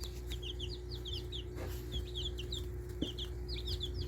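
Meat chickens cluck steadily in a coop, with high chirps and a low constant hum underneath; no one speaks.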